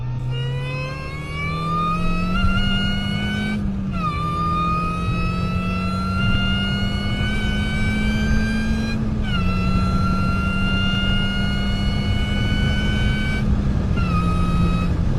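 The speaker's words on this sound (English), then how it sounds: "the Eaton M45 supercharger" A Mini Cooper R53 engine with an Eaton M45 supercharger revving up in repeated pulls, a rising supercharger whine climbing with each rev before dropping at the shifts, loud and close with no talking.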